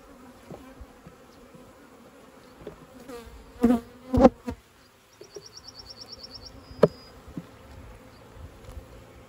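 Honeybees from a colony being expanded at an apiary in a cold May, with a steady low buzzing hum and some brief louder bursts of nearby handling noise while the hive is worked.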